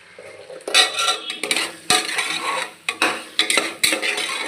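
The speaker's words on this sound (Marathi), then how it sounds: "असं हलवून घेतलं" Spiced masale bhat is stirred in a pot, with a series of loud metallic clinks and scrapes of a spoon against the pot over a faint background.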